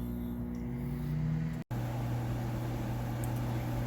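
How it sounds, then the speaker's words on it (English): A microwave oven runs with a steady low hum while heating a bowl of packaged chow mein; a brief click-like dropout interrupts the drone before it resumes, close and steady, with no talking. "Put it in the microwave for 3 minutes."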